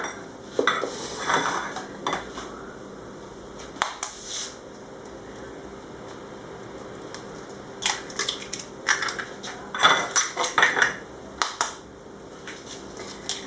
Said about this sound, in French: je vais casser les œufs.